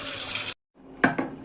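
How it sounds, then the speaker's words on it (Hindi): Water is poured into a container in a village kitchen in Kashmir, a bright rushing stream that stops abruptly, followed after a short silence by two soft knocks of the vessel. "इसमें ना थोड़ा सा पानी रखेंगे डाल के"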